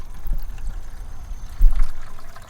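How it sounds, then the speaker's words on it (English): Dirty water from a Fluval FX4 canister filter drains out through an opened valve into a bucket, a low gurgling pour that swells in a louder surge partway through. "I'm going to turn this valve, and you can see there goes all of the water"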